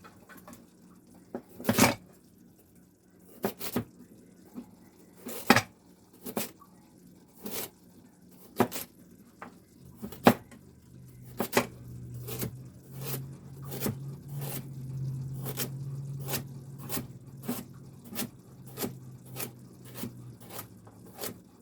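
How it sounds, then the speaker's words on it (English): A knife slices through four onions for soup, each cut a crisp, close tap on the board in a steady rhythm of roughly one stroke per second, with a low hum in the background and no talking. "I'll just slice these 4 onions up to add into our soup."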